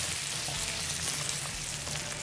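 Sundakkai vatha kuzhambu, a tamarind curry, bubbles in a pan over a lowered flame, giving a steady close simmering hiss with soft popping and no talk.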